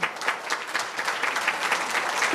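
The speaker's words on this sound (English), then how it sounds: "give them a round of applause" A crowd at a political panel claps steadily, dense and even, with no voices over it.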